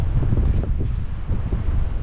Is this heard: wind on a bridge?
yes